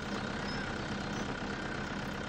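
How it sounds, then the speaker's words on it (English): Steady, droning idle of a harvester engine in Farming Simulator 2015, a constant mid-low rumble close by with no variation and no talk. "Actually, I should have turned off the engine on the harvester"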